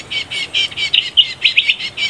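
Caught small birds, malipaga and lurik, chirp rapidly and loudly up close, a quick string of high, bright tweets with no other sounds around them.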